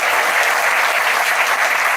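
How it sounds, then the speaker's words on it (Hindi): A seated audience at an RCM business meeting in Noida breaks into loud, dense applause for a guest, continuous clapping that fills the room evenly from start to finish. "एक बार मैं जोरदार तालियां चाहूंगा जेपी मौर्या जी।"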